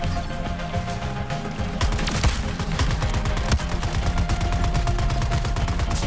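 Gunfire in the video game Suicide Squad, rapid bursts of automatic shots layered with sharp cracks and impacts, continuous and loud over several seconds, with no talking.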